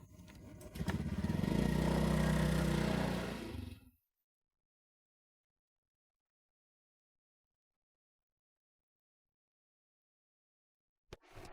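A motorcycle engine revving loudly close by for a few seconds, a rough rising roar that then cuts off abruptly into silence, with a brief faint noise near the end.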